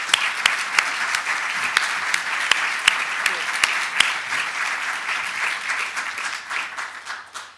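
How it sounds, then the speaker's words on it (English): A lecture hall audience applauds the dean and chair at a university distinguished lecture, a sustained, fairly loud wash of clapping with sharp individual claps early on, gradually thinning and fading toward the end. "So how about a round of applause for them?"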